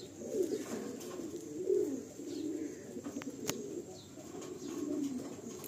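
Pigeons coo in low, rolling phrases, a pair with the male showing a dark purple foot, repeating several times across the stretch at moderate closeness with no talk over them.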